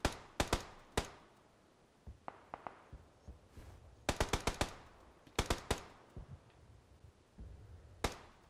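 Bursts of gunfire in PUBG on Xbox One: several clusters of sharp rapid shots, some loud and close, others fainter and scattered, with short gaps between the volleys and no talking.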